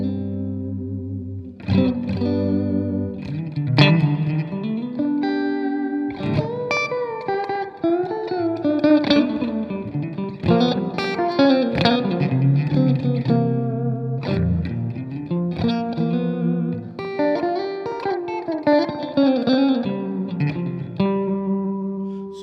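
An electric guitar plays a melodic funk-flavored line through reverb from a Flint pedal, with ringing notes and chords trailing into soft, spacious tails throughout.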